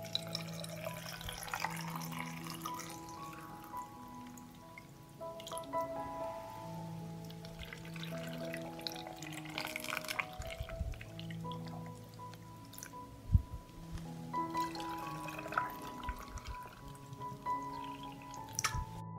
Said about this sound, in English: I will fill the jars with water to cover the tomatoes.